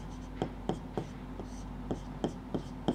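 A pen scratches out short, rhythmic strokes on paper during a Class 10 maths lesson, roughly eight distinct taps and scrapes over a steady low hum, close and quiet.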